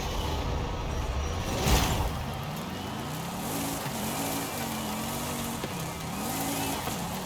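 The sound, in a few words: Fast X Impala car driving downhill in video game Forza Horizon 5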